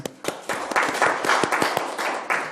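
A small group in a Korean education committee meeting claps for a departing official, close, uneven individual handclaps forming brief scattered applause.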